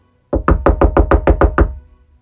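Eight quick, evenly spaced knocks on a wooden door, loud and close, followed by silence.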